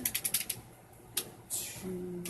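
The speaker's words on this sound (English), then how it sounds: "Alright, just about done shuffling here." Marvel Legendary game cards shuffled by hand at close range: a quick series of light clicks and snaps, a pause, then a short papery riffle burst, all fairly quiet.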